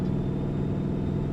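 A heavy truck engine in American Truck Simulator rumbles low and steady as the rig starts to pull away, a constant drone with no talk.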